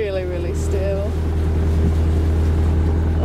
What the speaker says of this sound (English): we've got the engine running because it's really, really still